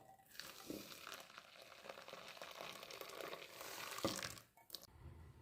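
Boiling water is poured onto semolina (rava) in a bowl to make murukku dough. It sounds like a soft, continuous hissing pour that lasts several seconds and then cuts off, quiet and close.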